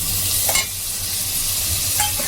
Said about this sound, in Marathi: टोमॅटो सुद्धा व्यवस्थित त्यात परतून घेऊ.